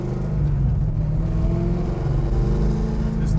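A 1970 Dodge Coronet Super Bee with a V-code V8 engine runs close by, a loud, steady, deep rumble that swells slightly as it revs, with no one talking.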